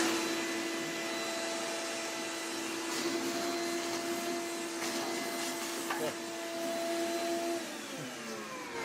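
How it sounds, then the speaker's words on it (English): A vacuum cleaner drones steadily and close by while cleaning a busted Polaris 4x4, with a whining motor tone and scraping, rattling bits of debris throughout. "That vacuum cleaner, if you can see it, it's putting out more dirt than it's cleaning up."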